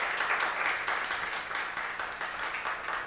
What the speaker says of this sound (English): a round of applause to them for the beautiful presentation